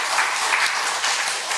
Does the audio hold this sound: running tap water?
no